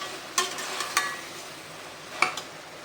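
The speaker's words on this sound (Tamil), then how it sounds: "போட்டு 1 நிமிஷம் வதக்கணும்" Vegetables and tomato sauté in a pan under a soft, low sizzle, with three or four sharp clinks of a spoon against the pan as they are stirred.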